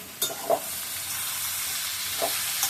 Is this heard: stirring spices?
yes